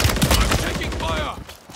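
Rapid gunfire in the video game Warzone 2, heard as a short, dense, close burst of shots that fades out within two seconds.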